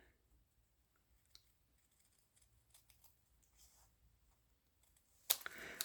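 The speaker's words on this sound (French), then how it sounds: "avec des ciseaux, on va couper de cette marque à l'angle opposé en diagonale" Scissors snip through paper card diagonally in a quiet room, giving scattered soft clicks and short cuts, followed by a louder burst of cutting at the end.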